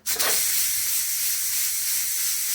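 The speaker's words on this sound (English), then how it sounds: "I'm going to release the steam and then we'll open it up" A pressure cooker holding chuck roast and vegetables vents its steam in a loud, steady hiss that starts abruptly and then continues evenly throughout, with no voices.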